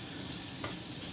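Tofu and onions sizzle steadily in a hot pan, a dense close frying hiss with a brief scrape of stirring partway through.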